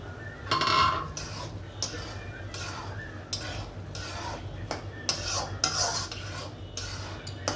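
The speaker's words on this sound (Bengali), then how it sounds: "ভাজা শুকনো মরিচ আমি গুলিয়ে" A utensil stirs and scrapes through fried dried chili being mashed in a pan, with repeated metallic clinks and scrapes in an irregular rhythm over a faint low hum, close and moderately quiet.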